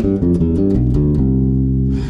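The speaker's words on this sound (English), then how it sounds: "So up to speed, it's going to sound like this." A fast bebop line on bass guitar played at full tempo, a steady run of close, even notes carrying on alone, loud and near, with no voice over it.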